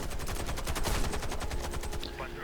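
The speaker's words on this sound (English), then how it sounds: "The shotgun really is a fantastic weapon." Shotgun blasts in the video game Warface, a dense run of loud, rapid shots going off close and steadily, with no voice over them.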